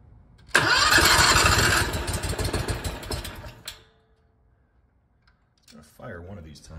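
The new engine in a 1980 Rounder L600 motorhome cranks, catches and runs loudly and roughly for about three seconds, then dies into silence, followed by a brief rustle.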